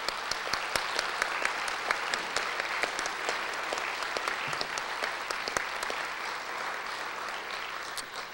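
Town hall audience clapping for a media panel, a moderate, even round of applause with sharp individual claps standing out close by, continuing steadily throughout.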